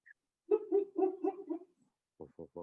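A dog close by gives a drawn-out whining yelp, then, after a short pause, three quick, sharp barks in a row.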